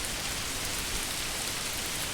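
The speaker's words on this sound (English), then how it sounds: "look, it's raining." Steady, dense patter of rain in the medieval city-building game Manor Lords, an even wash of falling drops with no breaks, fairly loud and alone.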